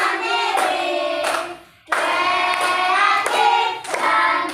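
A class of students claps together, a dense, loud burst of many hands that briefly dips and then swells again, close and continuous for several seconds with no talking.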